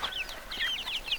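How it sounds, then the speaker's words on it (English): Cornish cross meat chickens clucking and chirping close by, a quick run of short, high, repeated calls with no talking. "my Cornish cross meat birds, let me show you these things"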